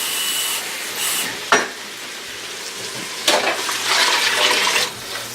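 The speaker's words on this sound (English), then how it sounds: "You usually want to add at least enough water to cover up the vegetables or whatever you have in your pot." Water pours into a cooking pot of vegetables for curry, a steady rushing gush with a splashy burst partway through, close and fairly loud without talk.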